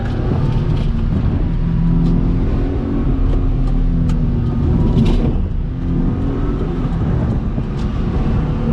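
Engine of a 1991 Daihatsu Hijet 4WD kei truck pulling steadily through a turn, a loud, close, continuous drone with road noise and no talk.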